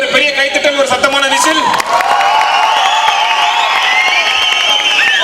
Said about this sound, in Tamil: எங்க ஒரு பெரிய கைத்தட்டல், ஒரு சத்தமான விசில்